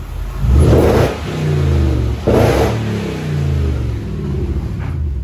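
A Jaguar XJR X350 engine revs hard inside a garage, with two loud rising bursts and an echoing rumble that settles between them.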